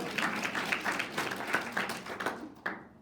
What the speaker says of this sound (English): go ahead and clap for them, that's great.